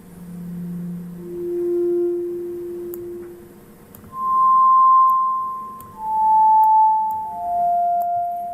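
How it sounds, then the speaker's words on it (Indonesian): A music app for children plays harmonic synthesizer tones: pure, sustained notes that sound one after another at shifting pitches, with faint clicks between them in an otherwise quiet setting. "Ini suara harmonik."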